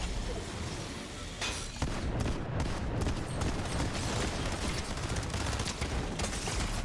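SMG fire in Fortnite rattles out as sustained rapid bursts, loud and close, mixed with other battle noise and game effects.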